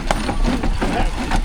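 A Ruston steam engine runs at the Sussex steam rally at Parham Park, giving a loud, close, rhythmic chuffing and mechanical thumping with a low steady rumble beneath, a voice talking over it.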